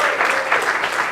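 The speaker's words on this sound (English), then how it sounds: "Yeah, a round of applause." Studio audience applause on a sports talk show, a short burst of steady clapping, close and fairly loud, with no speech over it.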